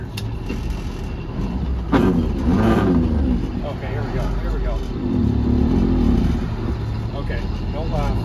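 A 1985 Kenworth K100E Aerodyne truck with a Detroit two-stroke 8V92TA diesel revs under throttle, a gruff rumbling engine that swells and settles over several seconds while people talk excitedly nearby.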